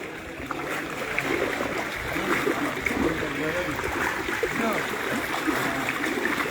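A boat moves through floodwater on the streets of Sylhet city, a steady wash of sloshing and splashing water with a low rumble underneath, continuous and fairly close, while voices talk over it.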